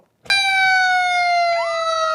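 A loud, steady Knoxville Fire Department fire truck siren wail starts abruptly and holds, with a second rising tone sweeping up partway through, like the truck close behind.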